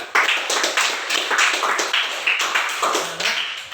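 Students in a classroom clap together in a rhythmic, unified beat, sharp regular claps repeating at a steady pace, close and fairly loud.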